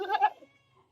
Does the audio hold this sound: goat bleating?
yes